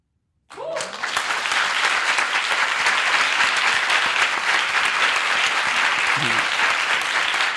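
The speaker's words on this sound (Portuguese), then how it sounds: "Hoje eu sinto que a gente só aplaudiu, né?" After a brief silence, an audience breaks into loud, sustained applause at a live talk show recording, dense clapping that holds steady to the end with a voice briefly heard beneath it.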